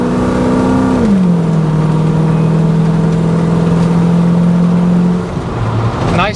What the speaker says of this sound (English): Get on it a little bit harder here, you can hear the exhaust.